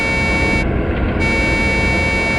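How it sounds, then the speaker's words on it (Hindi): A truck horn sounds in a forest as one sustained, steady tone that holds at a constant loudness, without any speech. "हॉर्न भी बजा रहा है।"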